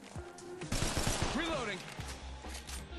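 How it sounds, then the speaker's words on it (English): Gunfire in the shooter game Apex Legends, a dense burst of rapid shots with crackling impacts and game effects, loud and continuous, with a voice speaking over it. "getting shot at"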